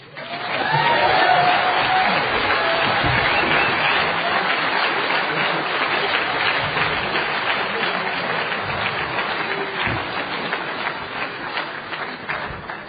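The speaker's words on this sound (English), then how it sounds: "How about another applause for our great speakers, huh?" Sustained applause from a Narcotics Anonymous meeting audience for its speakers, a dense, steady roomful of clapping that stays loud throughout and tapers only slightly toward the end.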